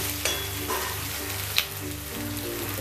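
Semolina balls sizzle and crackle steadily in hot oil as they are stirred, with a few sharper pops and spatters breaking through the close, continuous frying hiss. No voices.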